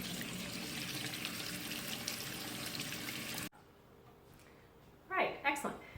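Green beans for fermented sweet pickles are rinsed under a loud, steady stream of running tap water that cuts off abruptly, followed by quiet and a few short splashes or handling sounds.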